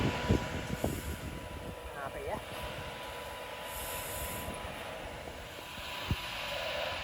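A diesel locomotive rumbles as it pulls away from Wigan North Western station, bound for Glasgow Central, a steady low roar with occasional clanks and a faint high squeal.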